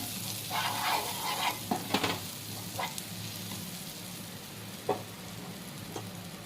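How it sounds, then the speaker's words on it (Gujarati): Pav buns toast in a pan with oil, butter, pav bhaji masala, Kashmiri red chilli and green coriander, giving a soft continuous sizzle with a few light scraping stirs, close but fairly quiet. "પાવ શેકવાનું શરૂ છે।"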